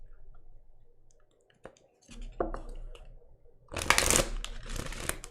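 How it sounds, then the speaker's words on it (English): Decks of cards are shuffled by hand in a few separate bursts of riffling and tapping, the loudest flurry coming near the end, close and crisp in a quiet room. "Y'all saw me shuffle these decks."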